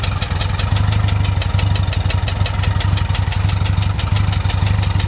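A 1977 VW Westfalia camper bus engine idles steadily and close by, with a fast, regular ticking tapping over its low rumble throughout.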